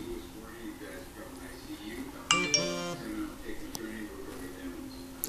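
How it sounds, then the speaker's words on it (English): A brief, bright ringtone chimes once midway on an iPhone running the iOS 7.1 beta, rising above a low, steady background hum. "That ain't that ain't a ringtone that I'm used to."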